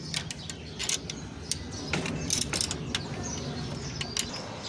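Pigeon cage doors being unlatched and swung open, a run of creaking metal clicks and rattles in quick bursts close by, with faint bird sounds in the background.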